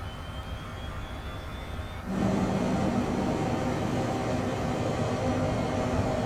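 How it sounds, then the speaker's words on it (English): Engine 1 of a Phenom 100 business jet spooling up in Microsoft Flight Simulator 2024: steady background hum, then around two seconds in a sudden step up into a louder, sustained broadband turbine roar with a low whine. "Start up engine 1."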